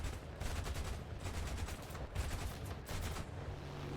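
Enemy aircraft gunfire in a World War II flight game, rapid rattling bursts of machine-gun fire repeating over a steady engine drone, fairly close and loud.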